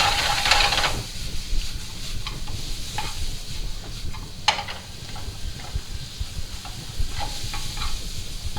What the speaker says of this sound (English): while we're sweating down the onions.